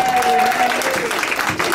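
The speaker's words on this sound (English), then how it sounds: "If you would clap for the audience out there who's in the parking lot." Clapping from a live radio show audience gathered outdoors in a parking lot at a historic hardware store, a brief burst under a speaker's voice that dominates the moment.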